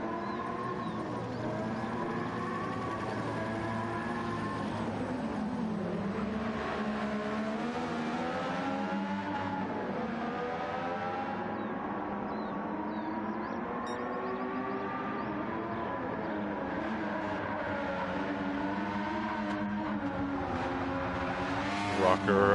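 McLaren MP4 race cars in Gran Turismo 7 give a continuous engine whine that rises and falls through the gears as a lap runs, with a commentator talking over it throughout.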